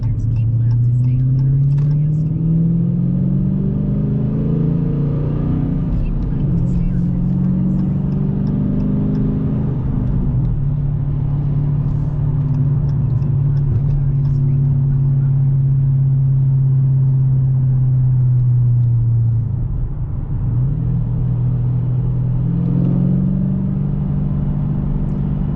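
A Dodge Challenger 392 Hemi cruising on Ontario roads between Cambridge and Mississauga gives a steady, loud low engine drone heard from inside the car, rising and easing gently, with voices talking over it.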